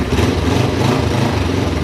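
A cheap old motorcycle, just started on full choke, runs steadily close by with a rough, buzzing engine note; the revs stay fairly even with only slight variation.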